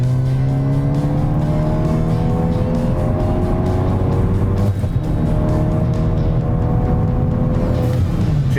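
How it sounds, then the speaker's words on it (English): A Ford Focus ST engine pulls hard under full throttle in third gear, a loud, steady rising drone with climbing harmonics through most of the run, a brief dip near the middle, then climbing again, with no talk over it. "I've got it in third gear. I'm gonna punch it and see if the car misfires or does anything strange"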